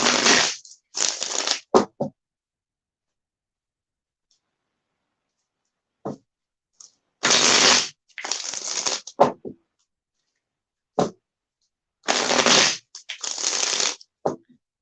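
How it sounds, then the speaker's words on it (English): A deck of cards is shuffled in several quick bursts of riffling and flicking, close and crisp, separated by pauses of silence. "let me get a good shuffle on these"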